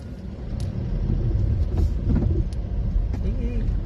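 Cars driving past on a one-way road in Montalban after monsoon flooding, a continuous close rumble of engines and tires with brief higher hisses, while people chat nearby.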